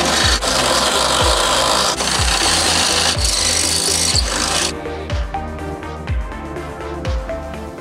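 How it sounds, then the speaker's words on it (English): A 3/8 inch drill bit bores holes in car sheet metal in a Mazda Miata, a loud grinding whine with rhythmic pulses that eases into quieter rattling as the bit breaks through. "Now we'll use this 3/8 inch drill bit to drill out the holes."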